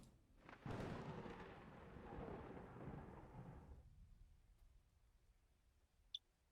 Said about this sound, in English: From the distance, you can hear a sound of thunder.